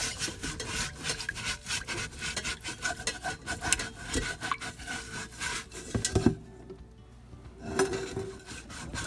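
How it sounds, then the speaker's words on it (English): A twisted-up onion bag scrubs a scorched pan in quick, rhythmic rasping strokes, close and fairly loud, with a short pause before the scrubbing resumes. "we're gonna get in here with an actual scrubby and see what happens"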